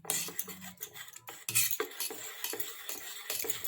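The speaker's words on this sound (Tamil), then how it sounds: "கொஞ்சம் கொஞ்சமாக தண்ணி சேர்த்து எக் பீட்டர் வச்சு நல்லா கலந்துக்கலாம்" An egg beater clinks against a bowl as maida flour batter is mixed with water for sweet idli, a quiet run of irregular metallic taps and scrapes.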